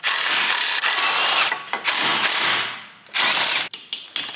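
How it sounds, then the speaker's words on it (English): Hand tools and a power tool ratcheting and whirring while a bent, broken air filter box bracket is removed from an Aston Martin, loud close bursts with short pauses between them. "we're going to remove this broken bracket because it's all bent, and this houses the air filter box"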